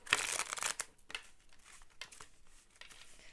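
A deck of tarot cards being shuffled by hand, with soft crisp riffling and papery rustling bursts, quiet and close, with no talk.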